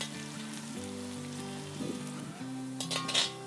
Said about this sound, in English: Add in the sliced onion to the hot oil, and then we need to fry this up to a golden brown shade.